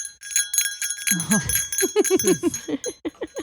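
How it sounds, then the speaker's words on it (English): A small jingle bell shakes with bright tinkling, soon joined by someone singing or talking over the ringing for a few seconds. "I have my jingle bell"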